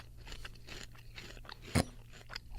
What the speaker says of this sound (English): He's chewing, as you can hear.